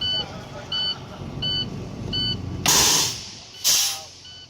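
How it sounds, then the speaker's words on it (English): Truck parking air brake released in two sharp, loud hissing bursts about a second apart, with a repeating beep sounding earlier over the idling engine. "Push in the parking brake and release."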